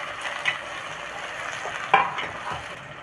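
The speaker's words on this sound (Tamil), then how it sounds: "அதையும் இந்த வெங்காயத்தோடு வதக்கிடணும்" Onion, tomato and green chili are sautéed in a pan, giving a soft low sizzle with a couple of brief scraping stir clicks from a spoon, faint and close.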